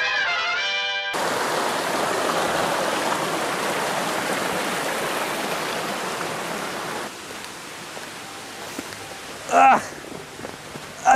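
A river stream rushes in a steady broadband hiss of flowing water for most of the span, thinning out later, with a few brief bumps and handling noises near the end.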